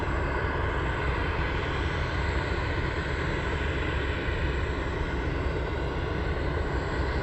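MD-11 trijet aircraft engines roar steadily at Anchorage airport, a constant broad, dense rumble that stays loud and unchanging throughout with no voices.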